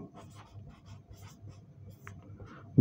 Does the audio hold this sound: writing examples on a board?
yes